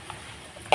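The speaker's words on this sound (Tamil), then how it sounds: "நல்லா வதக்கி விட்டுக்கலாங்க" Onion and garlic sizzle softly in a pan as the spoon turns them, ending with one sharp clack against the pan as amaranth greens go in.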